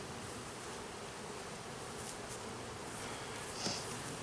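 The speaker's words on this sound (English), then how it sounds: "there's still a bunch of bees up there." A steady, faint buzzing of a honeybee swarm hums continuously throughout, soft and close, with no voices.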